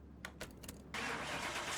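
Ford F-150 Raptor engine cranking with a few short starter bursts, then catching into a steady, full idle roar that continues to the end.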